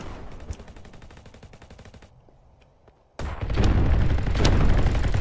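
Rapid gunfire in the Roblox game RF Legacy, a dense stream of quick shots that breaks off into near silence, then resumes as heavier, louder bursts with booming hits.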